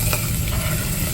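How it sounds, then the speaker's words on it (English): Hot oil sizzling loudly and steadily as meat and onion fry for Filipino patola soup, a close, dense crackle with light stirring and no voices. "the oil is making a lot of sounds"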